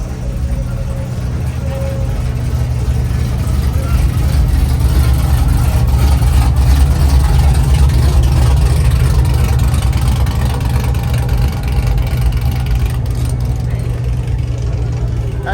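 A cammed car engine idles at a car show in Tulare, California, with a steady, loud, lumpy low rumble that runs throughout beside crowd and music noise.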